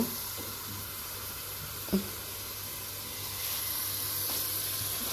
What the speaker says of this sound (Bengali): আমি চিংড়ি মাছটা এখন দিয়ে দিলাম দিয়ে তারপর কষাবো